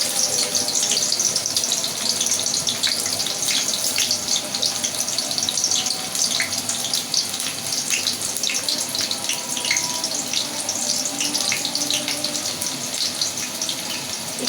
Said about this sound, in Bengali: আমার তেল গরম হয়ে গেছে পেঁয়াজটা দিয়ে দিলাম